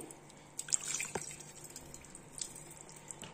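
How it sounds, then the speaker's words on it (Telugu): Tamarind water pours and drips in a few quiet, short splashes close by while making chicken dum biryani, with soft trickling between them and no voices. "ఈ పులుపు అంటే చింతపండు పులుసు అంతా పోసుకోవాలి"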